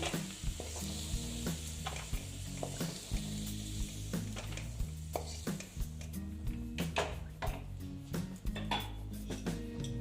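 Fried potatoes are lifted from a sizzling pan, with a constant close hiss of hot oil under repeated metallic scrapes and clinks of a spatula against the pan.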